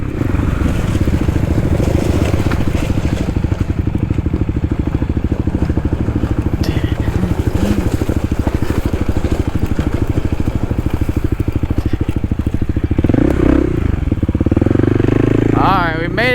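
A Kawasaki KLX 300 dual sport motorcycle rides along a trail with its engine droning steadily and loudly up close, with rough clattering and wind buffeting throughout.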